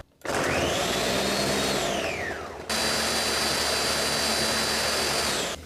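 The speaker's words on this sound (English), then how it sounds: "now we're going to blend it" A blender whirs loudly at close range as it blends a watermelon ice cream mixture with a pinch of salt. It starts with a rising whine, briefly drops in pitch, then runs on with a steady, even roar.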